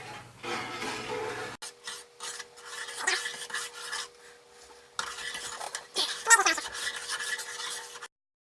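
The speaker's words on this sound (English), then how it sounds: "So, give it a bit of a stir." Liquid is stirred in a plastic tub while homebrewing beer, producing rasping, scraping strokes of a spoon against the container in uneven bursts, close and fairly loud with pauses between, no talking.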